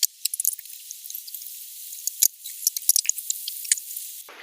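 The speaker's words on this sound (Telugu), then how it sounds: "ఇప్పుడు ఈ చికెన్ని ఆయిల్లో కొంచెం మంచిగా ఫ్రై చేయాలి" Chicken frying in oil for a Telugu chicken gongura (sorrel) dish, a steady bright sizzle full of crackles and pops, close and fairly loud, running continuously without talk.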